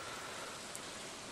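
Steady rain falls in the video game Stardew Valley, a soft, even hiss of drops that stays constant and faint for a brief moment with no talk.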